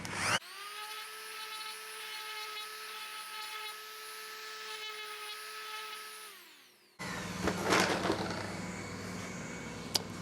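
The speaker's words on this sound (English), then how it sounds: "I don't have to run air assist when it's engraving, but I just run it all the time to keep the nozzles clean" Air assist pump on an Ortur Laser Master 3 laser engraver, a steady close mechanical whine and hum with a constant tone that winds down near the end before broader machine noise takes over.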